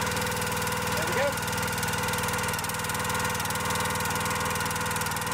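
A log splitter's small engine runs at a steady idle close by, its low, even drone continuing without a break throughout.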